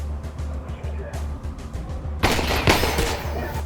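Combine soldiers in a Half-Life: Alyx mod fire volleys of gunfire, a dense burst of rapid shots that erupts suddenly after a quieter stretch of muffled game ambience, loud and close.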